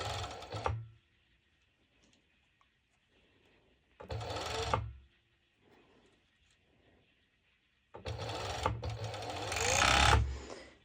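A sewing machine stitches layers of fabric for a violet crop top with long ruffles, running in three separate bursts of rapid mechanical chatter, the last one longer, with quiet pauses in between.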